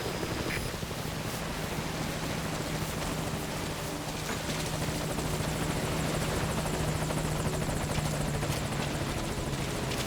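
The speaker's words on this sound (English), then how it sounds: "Focus all your fire on that enemy chopper." Enemy helicopter in Metal Gear Solid V: Ground Zeroes, a continuous loud rotor thump and engine roar filling the whole stretch with dense broadband noise, no voices.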